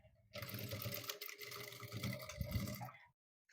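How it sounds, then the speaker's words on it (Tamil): A sewing machine runs steadily for about three seconds, stitching along the folded edge of a blouse, close and fairly quiet, with a brief pause near the start and no talking. "ஃபோல்ட் பண்ணிவிட்டு இந்த ஓரத்தில் ஸ்டிச்சஸ் போடணும்"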